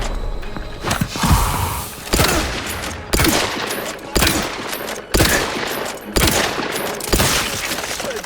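Rifle shots in the video game The Outer Worlds 2, about eight loud, close cracks fired at a slow, steady pace roughly a second apart, each with a short echoing tail.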